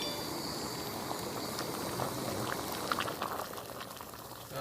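Water boils steadily in a pot on an Optimus HE Weekender camping stove, a dense continuous bubbling and hissing roar close by, with a few brighter pops rising through it and no talking.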